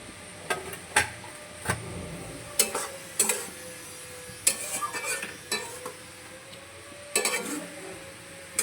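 Bata fish curry bubbling in a pan, with a spoon stirring it and clinking against the metal at irregular intervals over a steady, soft simmer; no one speaks.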